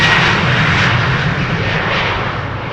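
Close, powerful roar of a KLM Boeing 737-900 jet departing Amsterdam Schiphol, a dense broadband blast that eases slightly toward the end and has no talk over it.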